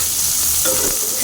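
Onions and spices fry and get stirred in a pan for a village-style Bengali lunch, a loud continuous sizzle with a brief scraping stir partway through.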